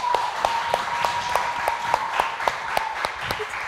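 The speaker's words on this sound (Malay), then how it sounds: "Beri tepukan sekali lagi untuk mereka" An audience at a secondary-school debate final in Malaysia applauds the debaters from both schools. The claps fall in a quick, fairly even rhythm at moderate loudness, with no voices over them.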